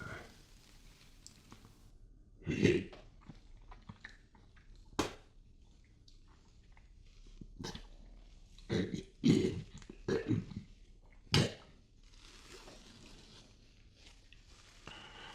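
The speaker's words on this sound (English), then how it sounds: "I needed to clear my throat, and that worked wonderfully" A person clears their throat several times in short, rough bursts, with quiet pauses and faint shuffling between them.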